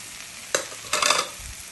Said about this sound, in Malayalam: നല്ലപോലെ സോക്ക് ചെയ്യുക.